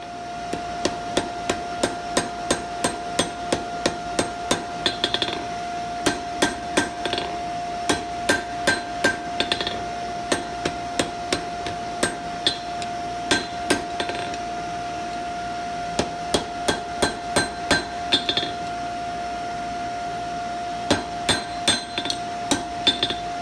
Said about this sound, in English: You just turn them, give them a couple clean, good hits, and it'll smooth up the surfaces.